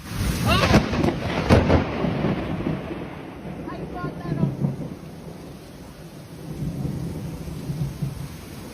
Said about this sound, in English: a storm capable of producing very strong wind gusts, up to nickel-size hail and heavy rain